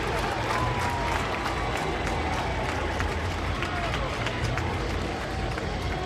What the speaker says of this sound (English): The home crowd loves it.